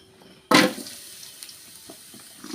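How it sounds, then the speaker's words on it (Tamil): Onions sizzling in hot oil in a pan for a village-style river kendai fish kuzhambu, a sudden loud hiss bursting in as they hit the oil, then settling into a steady crackling fry with small pops. "இப்போ வெங்காயத்தை வதக்கிக்கலாம்"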